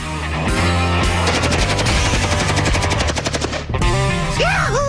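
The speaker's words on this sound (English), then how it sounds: "And you're shooting AK-47." An AK-47 rifle with a folding stock fires a loud, rapid burst of automatic shots with a clear rhythmic rattle that breaks off near the end.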